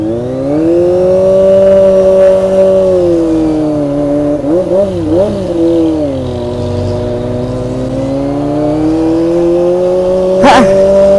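A Kawasaki ZX-25R inline-four motorcycle cruises through rainy city traffic in Baguio City, its engine holding a steady high-pitched whine with small rev shifts midway, loud and close throughout with no talk.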